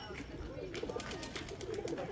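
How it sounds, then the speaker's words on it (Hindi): A pigeon settles near a rural village mosque and gives soft, low coos in short repeated pulses. Faint flutters and steady background noise sit beneath it. "ये कबूतर बैठ रहा"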